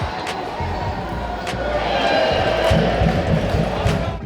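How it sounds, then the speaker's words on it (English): A small crowd of London Irish rugby fans cheering and shouting at a home match in a large stadium, a steady roar of voices carrying throughout with occasional louder swells and sharp impacts. "the Irish fans are making themselves heard"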